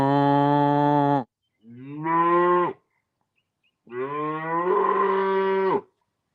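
Cows mooing close by, three long, loud, drawn-out moos separated by short silences, the last one rising and wavering.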